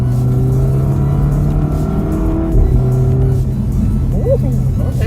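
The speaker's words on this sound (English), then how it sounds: "Sport mode, you can hear the exhaust of the supercharger so well." A supercharged Volvo V60 Polestar in sport mode drones loudly from inside the cabin as it accelerates, a steady low engine and exhaust rumble with rising harmonic tones, and a voice speaks briefly over it.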